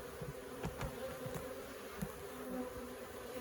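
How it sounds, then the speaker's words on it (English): Honey bees fan at a hive entrance while a queen is being marked, a continuous faint close buzz with light clicks and bumps scattered through it. "you see all these bees are starting to fan, saying, hey, mama's in here"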